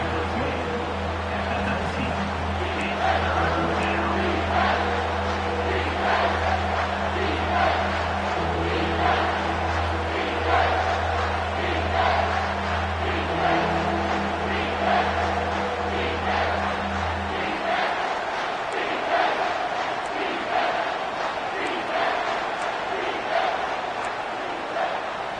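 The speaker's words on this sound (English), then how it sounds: "And the crowd coming to life here, trying to help this defense down in the red zone." Football stadium crowd cheering as the home defense holds in the red zone, a loud sustained roar of many voices throughout, with a low droning hum underneath that drops out about two-thirds through.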